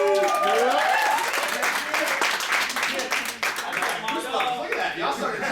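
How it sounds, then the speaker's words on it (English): A crowd in an audience breaks into a sustained round of applause, dense clapping with some cheering that stays loud and steady throughout, with voices mixed in. "the round of applause that just came about should speak volumes for itself"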